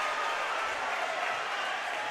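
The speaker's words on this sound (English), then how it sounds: "They've got their crowd loud" A home basketball crowd at a district finals game cheers and applauds going into halftime, a dense, steady roar filling the whole short stretch without letup.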